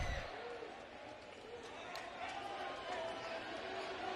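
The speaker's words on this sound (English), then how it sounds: "Crowd got noisy." A noisy crowd at a Cleveland Indians vs Detroit Tigers baseball game sends up a steady, distant roar that swells slightly toward the end, with a voice talking over it.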